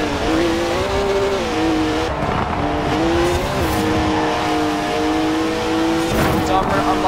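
Forza Horizon 4 race cars roar through a race with engine revs rising and falling as gears shift. Tires squeal briefly, and the sound stays loud and continuous throughout.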